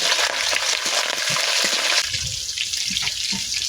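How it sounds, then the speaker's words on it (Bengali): Shrimp fry in hot oil in a wok with tempering spices, giving a steady broadband sizzle that is loudest at first and then eases into a softer crackle with occasional pops. "তো চিংড়ি মাছটা আমি লাল লাল করে ভেজে নেব।"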